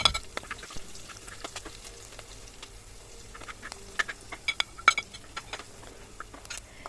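Onion, garlic, curry leaves and green chillies fry in hot oil in a pan, giving a quiet, steady sizzle dotted with sharp crackles and pops, close by, with no talking.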